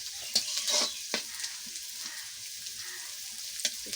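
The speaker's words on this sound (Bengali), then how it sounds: "একটু ভাজা ভাজা হোক।" About half a kilogram of onions fries in a pan with a continuous bright sizzle and crackle, punctuated by a few sharper pops and stirring scrapes close up.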